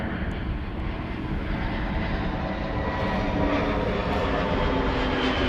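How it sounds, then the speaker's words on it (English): An airliner departs Schiphol in a crosswind, its engines giving a steady, fairly distant broadband roar that holds evenly throughout with no talking. "you can see it's a crosswind departure. It's drifting and crabbing a little bit on its way out"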